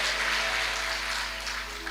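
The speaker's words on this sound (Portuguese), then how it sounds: "Aplauda o Senhor Jesus Cristo" A church congregation claps in a steady, dense patter of applause that fills the room, loud and even, with a low hum underneath.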